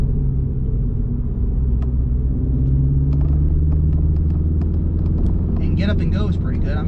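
A 2022 MINI Cooper S with a manual gearbox pulls in third gear, its engine giving a steady loud rumble from inside the cabin. Someone speaks over the drone.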